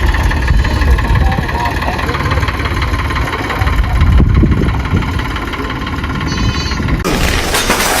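A tractor engine idles and runs steadily with a rough mid-pitched throb, close and loud throughout, under people's voices talking.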